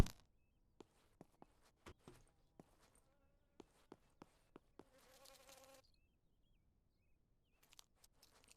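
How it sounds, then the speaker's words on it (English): Flies buzzing in The Gold River Project video game, a woodland camping scene: a brief close insect drone passes through the middle, set among sharp isolated clicks and taps, with quiet stretches between and no talking. "we have been hearing lots of like fly buzzing around our ear"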